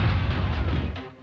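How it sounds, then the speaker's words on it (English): A violent car crash explosion in the video game Grand Theft Auto 4, one loud booming blast with a heavy low rumble that fades quickly, with no speech. "extremely entertaining crashes, which tend to end in violent explosions"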